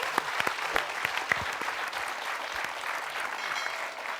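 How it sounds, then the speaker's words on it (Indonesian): An audience at a TV comedy show applauds a contestant named Rocky after a failed first attempt, a steady dense wash of clapping with a few sharper claps at the start, fairly loud and alone. "Kita kasih tepuk tangan dulu untuk Rocky."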